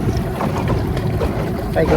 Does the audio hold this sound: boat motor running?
yes